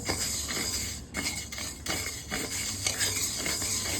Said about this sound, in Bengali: মুগ ডালটা এখন শুকনো খোলায় মেরে নিচ্ছি